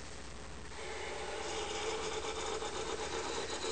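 A Falex friction test machine runs with a steady mechanical whir and grinding rub that swells slightly after the first second, then holds constant at moderate level with no talk.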